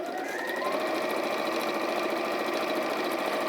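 A sewing machine runs steadily, stitching a quilt border with a shortened stitch length and no fleece backing, a continuous fast whirring hum held close at an even pace with no pauses.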